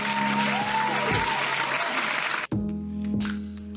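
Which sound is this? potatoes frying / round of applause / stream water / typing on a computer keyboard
round of applause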